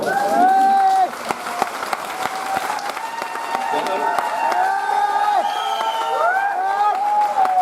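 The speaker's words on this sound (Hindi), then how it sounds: "इसके लिए ताली बजाए एक बार जोरदार।" An audience at a direct-selling seminar breaks into loud applause, sharp claps mixed with cheering, whoops and excited voices in the room, continuing throughout.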